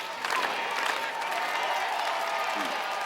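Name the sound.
crowd cheering and applauding a contestant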